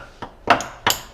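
A hammer taps a hex socket onto a bolt on a Porsche 986 Boxster during transmission removal: three sharp metallic strikes, the first light and the next two louder, each ringing briefly and close.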